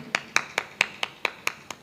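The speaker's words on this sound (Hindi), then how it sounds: "हम लोग को ताली चाहिए ना" An audience at a Hindi spiritual discourse claps, eight sharp, evenly spaced claps in a quick steady rhythm, fairly close and with no talk over them.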